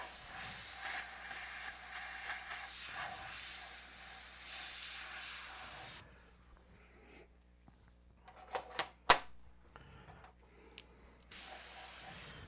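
An airbrush sprays paint in a steady, close hiss for several seconds. It stops into quiet broken by soft clicks and handling noises, then the spray briefly resumes.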